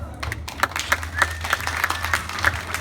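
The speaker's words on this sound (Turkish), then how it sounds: "Аплодисменты." Audience applause during a hotel animation show at a resort in Alanya: a fairly close crowd clapping in a loose, rhythmic pattern, with a voice heard faintly in the background.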